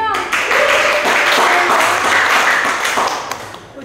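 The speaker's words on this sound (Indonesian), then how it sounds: "Wow, tepuk tangannya dong." Audience clapping at a campus student-ambassador event, a dense, loud burst of applause that carries on steadily for several seconds before tapering off near the end.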